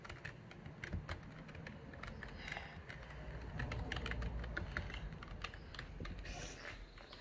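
Someone types on a computer keyboard during a typing test, a quiet run of quick, irregular key clicks over a low background hum, with no talking.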